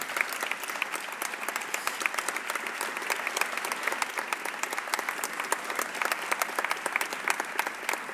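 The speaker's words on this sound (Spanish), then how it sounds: "Un aplauso de nuevo para él." Sustained audience applause fills a public Constitution Day ceremony in Elche, dense steady clapping from a large crowd at moderate loudness, with no speech over it.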